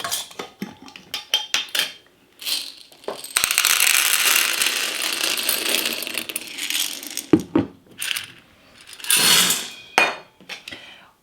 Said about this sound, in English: Now I am also adding 1/2 cup of dried chickpeas.